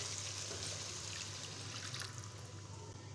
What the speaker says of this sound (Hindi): तो हम पानी ऐड करेंगे,